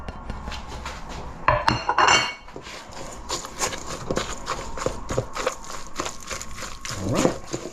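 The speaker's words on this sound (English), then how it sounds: "Just going to mix everything together." Burger ingredients, including cooled onions and pork mince, are mixed together on a plate, with repeated clinks and scrapes of utensil against the plate and a few louder knocks, close and with no talk.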